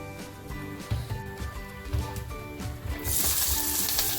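Chopped onion, green chilli and coriander sizzle and fry in hot oil for a drumstick flower vegetable dish, a steady crackling hiss that swells louder and brighter near the end, with faint stirring and no talk.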